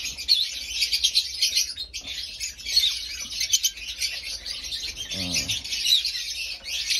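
African lovebirds in cages chirp and squawk busily, a dense run of sharp, high, close calls with short gaps, plus a brief rattling flutter near the end.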